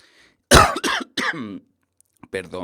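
A sharp cough bursts out, followed by a couple of shorter coughs and throat sounds, close and loud, with a brief quiet pause before speech resumes.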